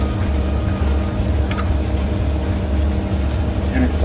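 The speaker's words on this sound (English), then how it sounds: "Engine 1 starting up." Engine one of a DC-3 in a flight simulator runs just after start-up, a steady low radial-engine drone with a short click partway through and a voice heard briefly over it.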